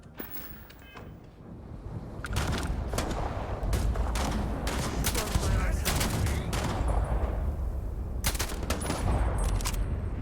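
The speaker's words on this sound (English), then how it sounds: "Let me try a new gun that I picked up." Gunfire from a newly picked-up gun, an old Earth hunting rifle, in the video game Starfield: rapid bursts of shots repeat through most of the stretch over a rushing, windy background.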